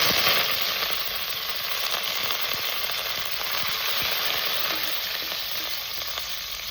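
Steady, close sizzling of curry leaves frying in hot oil for rasam, a dense crackling hiss with small pops throughout.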